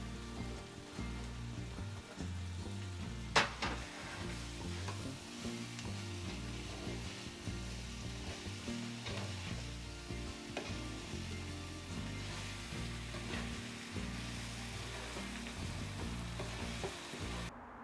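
Pieces of Gulf grouper, dredged for Chinese salt and pepper fish, fry in hot oil with a steady crackling sizzle and occasional pops and clinks of a utensil, no speech.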